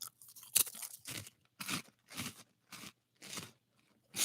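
Bigger, thicker seasoned fried potato sticks tasting of ketchup being crunched and chewed close to the mouth, with about eight crisp bites spaced roughly half a second apart and no talking.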